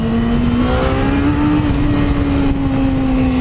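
An old motorcycle fitted with a Yoshimura exhaust revs loud and close, a steady high-RPM engine whine that holds near constant pitch for a few seconds with no talking.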